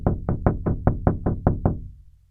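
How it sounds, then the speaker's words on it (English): Nine evenly spaced, loud knocks on a door, a steady firm rhythm close by with nothing else heard. "A knock came at the door."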